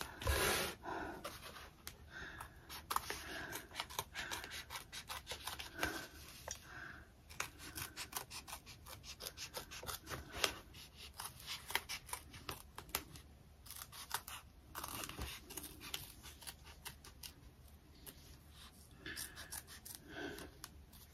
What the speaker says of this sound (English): I'm just cutting around here, getting all this excess off